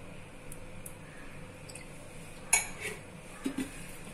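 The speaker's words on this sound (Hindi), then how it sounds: "तड़का पैन रख देंगे गर्म होने के लिए।" A metal tadka pan is set down on a home kitchen stove to heat, giving a sharp clank midway and a couple of lighter clinks after, faint and isolated.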